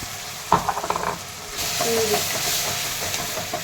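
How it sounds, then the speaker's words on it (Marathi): Tomato, green chilli, garlic, ginger and coconut hit hot oil and are stirred in a pan for chana masala, giving a loud initial clatter and scrape followed by a steady close sizzle with occasional spatula knocks. "छान परतायला लागलेलं आहे त्यामध्ये टोमॅटो हिरवी मिरची लसूण अद्रक खोबरं हे टाकून घेत आहे"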